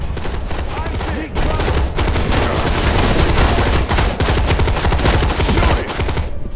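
Dense, continuous volleys of rapid gunfire from a first-person shooter game, loud and nearly unbroken, with brief pauses between bursts.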